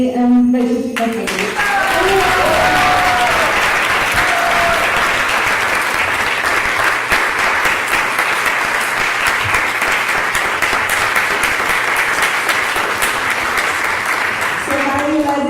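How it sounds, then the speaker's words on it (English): Sustained audience applause at a devotional seminar, dense and steady throughout, rising after a brief opening and continuing loud with no voices over it. "And a big round of applause to Alachua Devi and Vaisesika."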